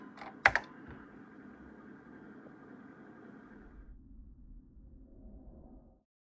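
Typing on a computer keyboard at a NABU PC running CP/M, a sharp click burst early then light steady key taps under a low hum for about four seconds before the noise drops away.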